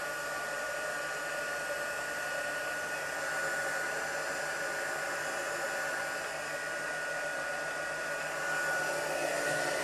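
A steady, loud blowing whir of a heat gun used for heat embossing runs continuously without pause, with a faint tonal whine over the rushing air.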